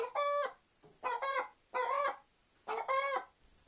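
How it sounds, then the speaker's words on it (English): Hens singing the egg song after laying on a farm in winter, four loud, nasal, drawn-out squawking calls in a broken rhythm, close and clear with quiet gaps between them. "they still sing the egg song when they lay"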